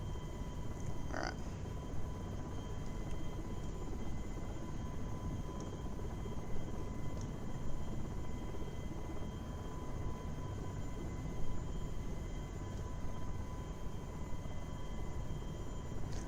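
Steady helicopter rotor and engine drone in the FSX/P3D flight simulator, an even, continuous hum with no pauses, heard from inside the aircraft.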